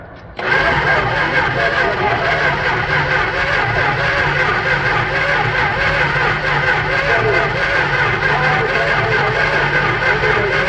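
A 1964 Plymouth Barracuda engine cranking over after a brief quiet start, a loud continuous churning drone that runs without pause, with voices present nearby.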